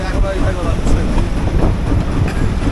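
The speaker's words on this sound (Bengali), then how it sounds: "বোর্ড চালু দিলে ইঞ্জিনের শব্দ খুব বেশি ভালো শোনা যাবে না" A sampan boat's engine running out at sea gives a loud, steady rumbling chug that fills the whole stretch without pause.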